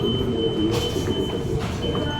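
A Kolkata Metro train arrives at the station platform with a steady rumbling roar, a thin high tone and brief wheel hiss, loud and close throughout with no talk.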